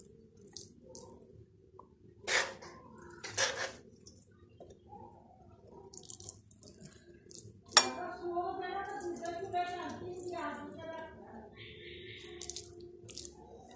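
Carrot halwa is spooned from a pot into a serving bowl, with scattered metal spoon scrapes and clinks against cookware, a couple of louder knocks and a stretch of denser scraping, fairly quiet and close, with no talk.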